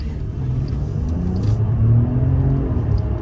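A Jeep Grand Wagoneer L accelerates while merging onto a highway, its engine note rising into a sustained rumbling surge heard from inside the cabin, with road noise beneath and no talk.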